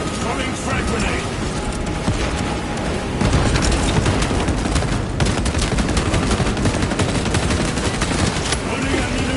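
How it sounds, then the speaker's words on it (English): A frag grenade blast and heavy gunfire fill a video game battle, with continuous loud, chaotic shooting and a deeper thump partway through, while voices call out over the din. "Throwing frag grenade."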